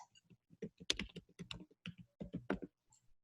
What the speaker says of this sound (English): like I want to add Steve, I can click add new, come over here, and I start typing his email address